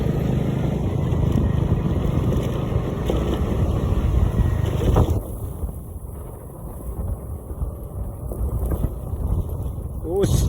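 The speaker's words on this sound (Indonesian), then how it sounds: "Angin kencang weh." Strong wind buffeting the microphone while riding along a damaged road lined with oil palms toward Aek Putih, a loud continuous rumbling roar that eases briefly midway, with a voice faintly underneath.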